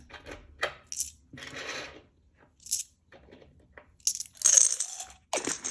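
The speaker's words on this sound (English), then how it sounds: "And then we'll grab the jar for the coins." Coins dropped into a jar during cash budgeting, giving several separate bursts of bright metallic clinking and jingling with quiet gaps between them, close and fairly loud.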